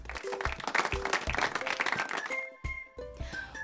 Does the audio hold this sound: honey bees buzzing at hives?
no